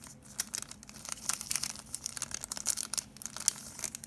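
Foil booster pack of Korean Shining Legends Pokémon trading cards being handled as the cards are pulled out, a steady run of close crinkling and tearing wrapper noise with sharp rustling bursts throughout.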